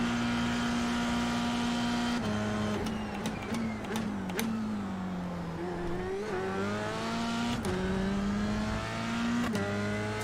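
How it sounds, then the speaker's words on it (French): A race car engine in the racing game iRacing held at high revs in a steady droning whine, stuttering with sharp clicks as it bounces off the rev limiter. "fais un bruit cette voiture dès que tu tapes le rupteur"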